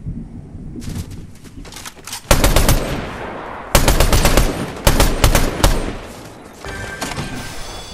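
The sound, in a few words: gunfire in Fortnite video game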